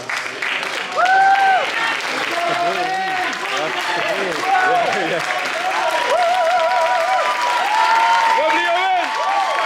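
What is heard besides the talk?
audience applause at a bodybuilding show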